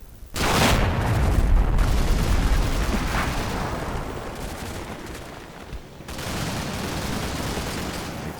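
A heavy rocket explosion in the war game Combat Mission: Black Sea hits with a sudden booming blast, then rumbles and decays over several seconds before a second deep impact swells up, all with no talking.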